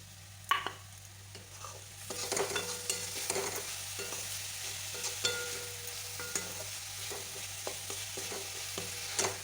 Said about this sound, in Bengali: আমি যে গুঁড়ো দুধটা নিয়েছিলাম এবার অল্প অল্প করে এতে দেবো আর নাড়তে থাকবো